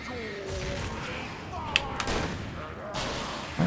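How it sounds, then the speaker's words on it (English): Shotgun blasts in a first-person video game, a few sharp bangs spaced apart over a steady game backdrop, fairly loud and close. "that guy didn't die to a single shotgun shot. Or even two. Or even three."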